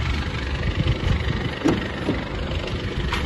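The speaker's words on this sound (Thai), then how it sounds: "เดี๋ยวผมดับเครื่องก่อนนะครับ" A 2011 Isuzu D-Max 2.5 SX Super Platinum pickup engine idles with a loud, steady diesel rumble. No clear shutdown is heard.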